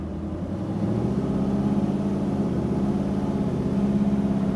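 A 1968 Chevrolet Camaro, a first-generation model, cruising with a steady low engine drone and road rumble from inside the cabin, holding an even tone with no talking.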